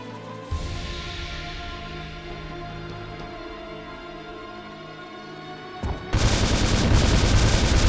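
Sustained machine gun fire in the arcade game Resident Evil Survivor 2 - Code: Veronica during a tyrant boss fight, a dense, loud rattling burst that kicks in near the end after a stretch of game music and ambience.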